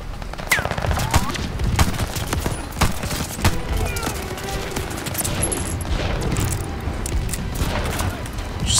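Dense, loud gunfire in a Call of Duty Vanguard campaign battle, rapid overlapping shots and bursts crackling continuously with occasional heavier booms, close and chaotic throughout.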